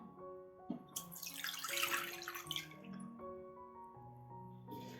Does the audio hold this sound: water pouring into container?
yes